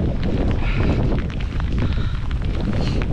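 Strong storm wind during a hailstorm roars and buffets loudly and steadily, with a constant low rumble and gusty noise, with no one talking.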